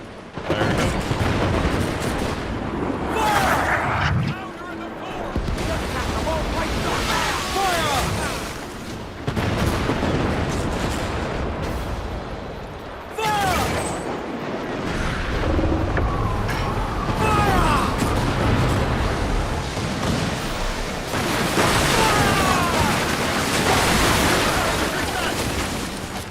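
Ship cannons fire in broadside volleys during a naval battle in Assassin's Creed Black Flag. Booming blasts come in repeated bursts over a constant roar of surf and sea, with a voice talking over the battle.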